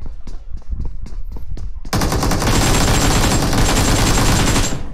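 Gunfire in the battle-royale video game BGMI: a few sharp separate shots, then a loud, dense, continuous burst of automatic fire that holds to the end.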